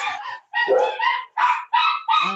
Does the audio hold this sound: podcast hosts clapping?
no